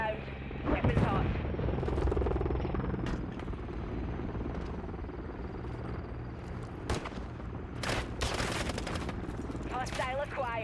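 Close air support strafing in a Call of Duty MW III multiplayer team deathmatch, with helicopter rotor drone and rolling bursts of heavy gunfire and sharp shots over a constant battlefield din.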